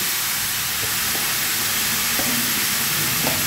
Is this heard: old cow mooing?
no